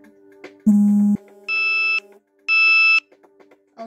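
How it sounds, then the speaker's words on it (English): A phone gives a short run of electronic beeps: three sustained tones with pauses between them, loud and clean against a quiet background, no talking. "Oh, sorry, that was just my phone."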